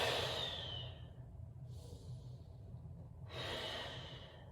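Two slow, deep breaths taken during a yoga stretch, heard close and soft: a long airy exhale fades, then after a pause another breath swells, with no talking.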